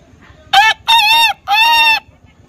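A man imitates a rooster crowing with his voice: a short opening note, then two long, strained, drawn-out calls, loud and close with little else around them.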